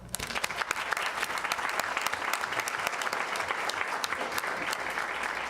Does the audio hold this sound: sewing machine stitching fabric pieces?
no